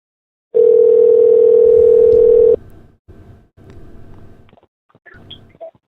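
A loud, steady telephone tone sounds for about two seconds, then breaks into short, quieter pulsed tones with brief gaps on the line.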